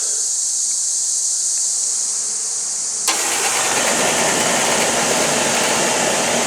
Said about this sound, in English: There you go. Fan is spinning.